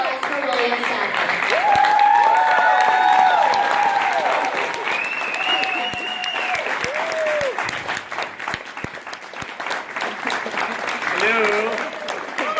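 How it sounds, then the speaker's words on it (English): Loud, sustained audience applause greets actor William Sadler at a Wizard World Chicago 2016 fan convention panel, with cheers and voices mixed in, rising early then easing off near the end. "Please give a round of applause for William Sadler"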